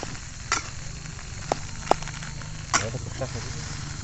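Nasi goreng, Indonesian fried rice, fries at a camping site with a soft steady sizzle, broken by a few sharp clicks and scrapes of a utensil against the pan.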